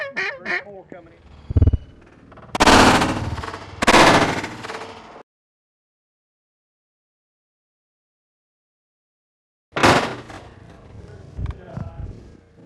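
Gunfire on a hunt: loud, close bursts of rapid shots crack out in a couple of volleys, followed by a stretch of silence, then another sharp report.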